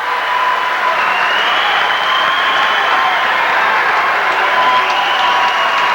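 Basketball crowd in a college game applauding and cheering, a loud continuous wash of clapping and roar filling the arena.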